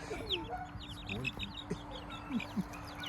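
Chickens of a newly brought breed cluck and chirp in short, scattered calls, a few sharper squawks standing out, with people talking nearby over a steady low hum.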